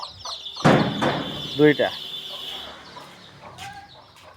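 Chickens clucking in a rural farmyard, a few short bursts near the start and middle, with a person talking in between and faint background sounds.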